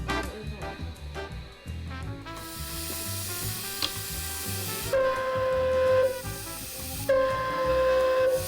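An old steam whistle blown with air from an air compressor, a steady loud hiss under the rising and falling tonal whistle, which sounds in several long blasts with short breaks between them.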